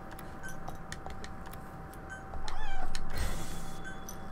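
A cat meows close by while Metal Gear Solid V game audio plays, with a drawn-out wavering meow standing out over ticking game sounds and background tones.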